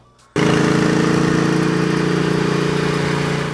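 A Suzuki Intruder's 750 cc 45-degree V-twin engine fires up abruptly and runs at a steady, loud idle with a throbbing, uneven pulse.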